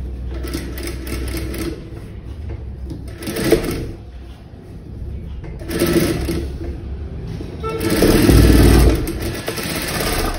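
A sewing machine stitches blouse fabric while the cloth is turned slowly along a princess-cut curve. It runs in steady mechanical bursts with short pauses between them, close and fairly loud, and no one talks.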